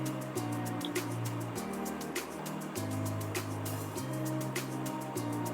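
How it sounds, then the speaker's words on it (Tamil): Leaves are washed by hand in water, with continuous splashing, sloshing and dripping close by and a rhythmic churning under a faint low hum. "ஸோ வாட்டர் போட்டு நல்லா அதை வந்து ஒரு 3 டைம் நல்லா வாஷ் பண்ணிக்கோங்க"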